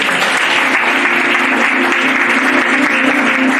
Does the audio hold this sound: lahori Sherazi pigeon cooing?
no